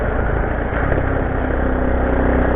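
A Honda CT90 motorcycle idles nearby, its engine holding a steady, even drone at constant loudness with no revving and no voices.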